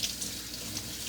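Running tap water streams steadily into a kitchen sink while a tomato is rinsed, a close, continuous hiss without pauses.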